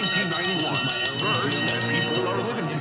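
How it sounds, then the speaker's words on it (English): A stock market opening bell rings steadily with sustained metallic tones throughout, while people talk over it. "The bell is going to go in 5, 4, 3, 2, 1."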